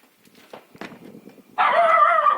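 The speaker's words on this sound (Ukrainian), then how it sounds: "так голосно гавкає" A dog lets out a loud, drawn-out bark that starts suddenly and carries on, following a few faint, quiet rustles, on a farm with quail and chickens.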